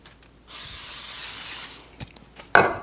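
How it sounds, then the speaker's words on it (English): A canola oil cooking spray hisses onto a tray in one steady burst lasting about a second, followed by a couple of short clicks and a clatter. "This is a canola spray, by the way."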